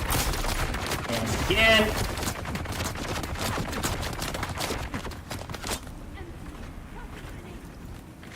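Grenade blasts from the video game Dune: Awakening, a dense run of loud bursts and crackling booms that fade into quieter rumble near the end, with a voice speaking briefly over them.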